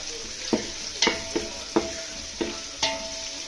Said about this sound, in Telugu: ఇవి కొద్ది కలర్ వచ్చేంత వరకు వేయించుకోవాలి